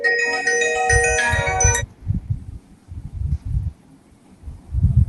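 Phone ringtone going off during a video call meeting, a bright melodic chiming pattern for under two seconds, then cutting out and leaving only muffled low rustling and breathy background noise.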